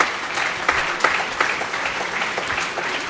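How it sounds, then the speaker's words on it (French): Audience at a French business-creation award ceremony applauding steadily, a dense sustained wave of clapping from a room full of people, fairly close and continuous throughout. "Voilà, que je vous demande de bien vouloir applaudir."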